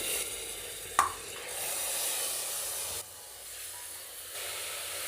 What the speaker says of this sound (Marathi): मटणही कांद्यासोबत तेलात चांगलं परतून घ्यायचं आहे